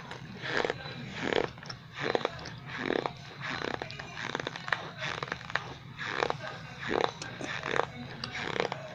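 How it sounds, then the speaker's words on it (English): Crunchy food being chewed at close range, a steady run of repeated crisp bites and mastication sounds with brief talk around them. "Let's keep on crunching."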